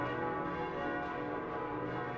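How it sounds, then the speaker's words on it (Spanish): A church bell tolls in the video game Koudelka, a sustained resonant metallic ring with rich lingering overtones, heard alone and fairly soft. "¿Pero qué es esa campana?"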